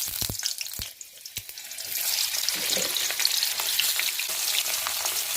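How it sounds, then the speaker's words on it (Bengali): Pieces of unripe jackfruit frying in hot mustard oil: a loud, continuous sizzle that swells after a few sharp clicks of pieces going into the pan, steady and close. "এবারে একটু ভালো করে লাল করে ভেজে নেব"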